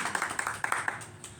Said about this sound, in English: let's clap for that poem